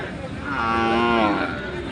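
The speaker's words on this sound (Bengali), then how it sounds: "রফিকুল ভাই প্রতি হাটে গরু নিয়ে আসে।" Cattle at a livestock market give a single loud, drawn-out moo lasting about a second, rising over a steady background of crowd noise.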